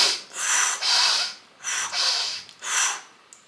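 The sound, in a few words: forceful deep inhale and exhale, breathing exercise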